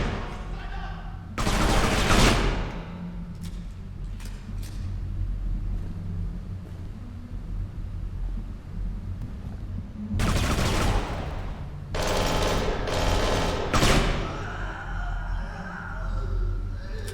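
Bursts of gunfire in the video game Kane and Lynch 2: Dog Days, played on Xbox in Extreme mode, come in three loud clusters: one early, then two close together near the end, over steady game rumble with a voice talking.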